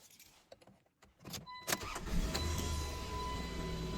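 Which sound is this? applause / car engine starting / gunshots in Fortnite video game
car engine starting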